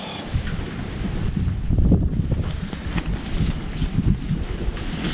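Wind buffeting a microphone outdoors in a garden while camping, a loud, low, rumbling roar with gusty swells throughout, close and continuous with no talk.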